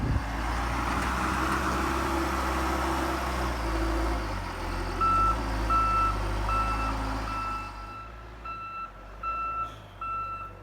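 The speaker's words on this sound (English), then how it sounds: "Still using the front end loader to get my road." A front end loader clears a snowed-in road after heavy snowfall, its engine rumbling steadily while a regular reversing beep repeats. The machine noise fades and thins toward the end.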